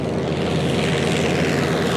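A Lockheed Constellation propeller airliner drones loudly and steadily, giving a dense, continuous roar of its piston engines with no talking over it.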